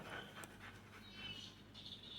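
A Siberian husky at a grooming salon for a bath and brush-out pants in quick, steady breaths, faint and close, with some light whimpering noises in the quiet room.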